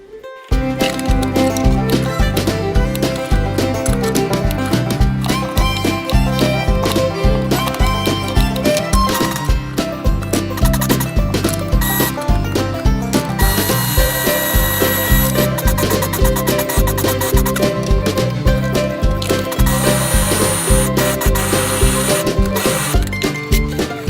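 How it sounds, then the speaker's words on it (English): A food processor chopping peppers and onions for homemade beef burgers gives a loud, steady motor whir with a rattling, pulsing texture that runs continuously for about twenty-four seconds, close up and alone. "I will process the veggies inside my food processor"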